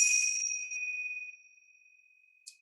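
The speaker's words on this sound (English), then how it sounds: "So I use the Tibetan tingsha bells. These are super loud. I'll ring them like one time quietly" A single quiet strike of Tibetan tingsha bells rings out clearly, a bright sustained metallic tone that slowly fades over about two seconds, with a faint tap near the end.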